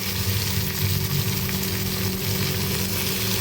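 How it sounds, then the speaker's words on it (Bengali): Capsicum frying in a kadai, a loud, dense and constant sizzle with a low rumbling hum underneath, close up and with no voices. "ক্যাপসিকামটা একটু নাড়াচাড়া করে নেব"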